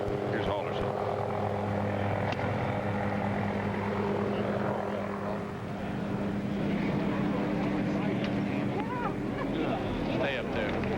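A helicopter flying low over a golf course fairway, its steady rotor and engine drone continuous throughout, with people talking over it.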